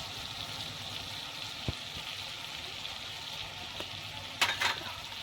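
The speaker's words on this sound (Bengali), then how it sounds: "সবকিছু একসঙ্গে দিয়ে এবার মশলা ভালো করে আমি কষিয়ে নেব।" Spices being sautéed in a pan for a cabbage and chana dal dhoka, with turmeric, cumin and chilli powder, salt and sugar: a steady soft sizzle throughout, with a few brief clinks and a louder scrape of stirring near the end.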